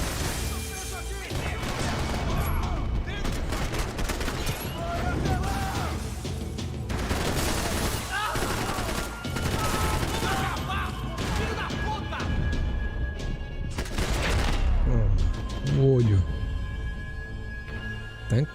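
Gunfire in Max Payne 3 on PC, repeated shots and bursts with impacts and crashes scattered throughout, loud and close, with someone talking over much of it.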